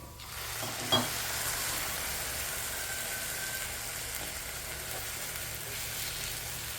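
Semolina cooking in milk in a pan over a low flame, giving a steady soft hiss and gentle bubbling sizzle that goes on evenly throughout, with one small clink near the start.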